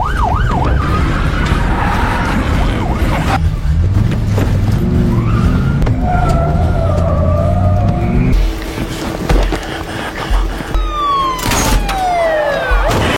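A stolen car speeds off during a getaway from a bank robbery, its engine roaring loud and close with tire skids and wailing sirens mixed in, intense and continuous throughout.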